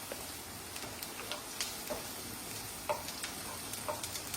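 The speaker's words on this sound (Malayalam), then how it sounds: "നെയ്യിലാണ് ആദ്യം നമ്മൾ സവാള വഴറ്റിയെടുക്കുന്നത്" Onions sautéing in ghee for an onion banana fry give a faint, steady crackling sizzle with a few soft stirring clicks scattered through, no talk over it.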